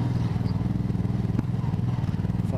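Motorcycle engine running steadily during a ride through a hot small town, a continuous low pulsing drone with even rhythm and a brief clatter partway through, heard close and alone.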